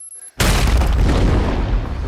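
After a brief moment of near silence, a single loud movie explosion from the James Bond film No Time to Die booms in with a heavy low rumble that stays strong as it rolls on.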